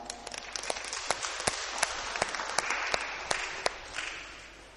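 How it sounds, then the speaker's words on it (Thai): A Catholic congregation at Sunday Mass in a Thai parish church claps in thanks, a dense continuous patter of hands with sharp, close individual claps standing out at irregular moments. "ให้เราปรบมือขอบคุณคุม"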